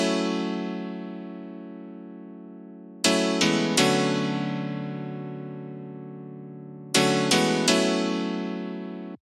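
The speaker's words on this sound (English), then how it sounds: "we have this house piano, which sounds like this" Old-school house piano plays chords in short repeated stabs, two quick clusters each ringing out and decaying slowly, bright and clear with no talking over it.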